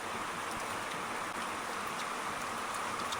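Rain falls steadily in a forest, a dense even hiss with scattered drop taps, faint and constant with no one talking.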